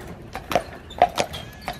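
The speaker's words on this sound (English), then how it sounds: "Totally relaxed with our horse, Birdia." Horse hooves clip-clopping on a road while pulling a horse-drawn caravan, a few distinct hoof strikes in an uneven walking rhythm at close range, with no voices.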